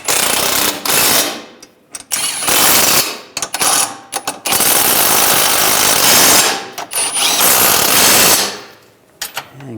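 A power impact tool snugs down bolts on a 2013-2016 Dodge Dart front lower control arm, firing loud, close bursts of rapid hammering with short pauses between them, several bursts in a row.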